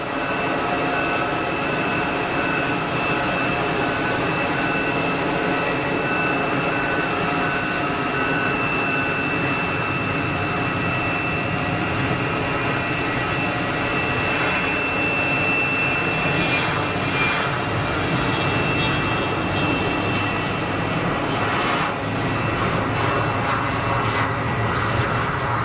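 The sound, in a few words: KLM airliner rolling on takeoff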